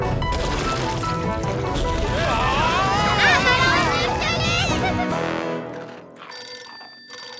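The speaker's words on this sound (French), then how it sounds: "Quelqu'un peut répondre au téléphone?" A telephone rings insistently amid a busy, noisy cartoon scene with voices and music, then the sound drops away to brief quieter tones.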